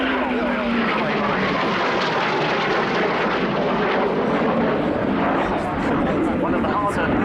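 An RAF jet flies a slow roll with reheat at the Cosford airshow, its loud, continuous roar rumbling overhead while a commentator talks over it throughout.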